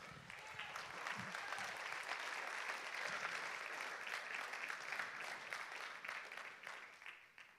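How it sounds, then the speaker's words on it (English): A church congregation claps together during a Sunday service, a dense, sustained wash of applause from many hands that holds steady for several seconds, then tapers slightly at the end. "Give God a hand clap."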